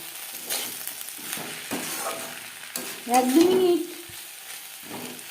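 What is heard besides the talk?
onion stalks frying and sizzling in a pan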